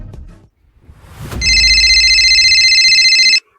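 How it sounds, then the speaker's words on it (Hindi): An old-style telephone bell rings in a fast, continuous electronic trill, loud and close, after a brief click and rustle. "जाकिर भाईजान का फोन आया है।"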